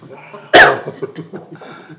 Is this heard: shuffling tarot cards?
no